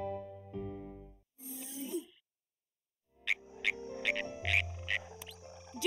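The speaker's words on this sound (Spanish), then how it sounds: "¡Puede haber ranas ahí!" Frogs croak in a rhythmic series of short bright calls in the Mini Einsteins children's game, following a few other cartoonish sound effects, close and clear with no speech.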